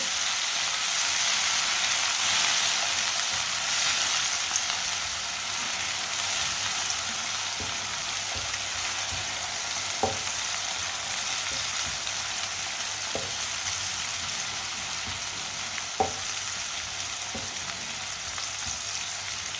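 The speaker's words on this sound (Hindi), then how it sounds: "इसे भी 1 मिनट के लिए पका लेंगे।" Steady close-up sizzle of green garlic frying in a pan, a continuous crackling hiss with a few sharp pops and scrapes.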